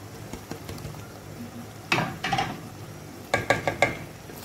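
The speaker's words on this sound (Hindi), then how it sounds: "इसे करते हैं मिक्स।" A spoon stirs red chili powder, salt and turmeric into chicken karahi in a pan, with light scraping, a soft sizzle and clusters of sharp metallic clinks against the pot.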